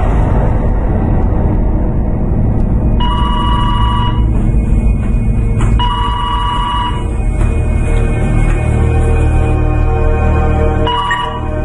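Telephone bell ringing in a French-dubbed American horror film, several repeated ring bursts with short pauses, loud and close over a low background rumble.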